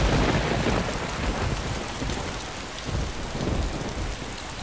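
Heavy rain pours in the game DayZ, a loud, dense hiss with deep rolling thunder rumbling underneath, continuous and without voices.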